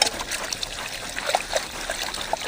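Water being poured while cooking a village greens curry (keerai kulambu), a light continuous trickle with small splashy dribbles, fairly close and steady.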